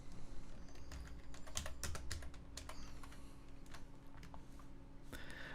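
Typing text on a computer keyboard, a quick run of crisp, close keystroke clicks at an uneven pace over a faint steady background hum.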